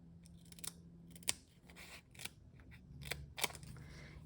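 Scissors snipping paper pieces for a handmade six-petal flower card, a series of quiet, close, crisp cuts in irregular bursts, without speech.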